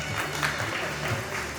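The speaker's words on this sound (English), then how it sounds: "Louder claps." Crowd at a parish hall opening ceremony clapping, a continuous wash of applause with a low murmur of voices beneath.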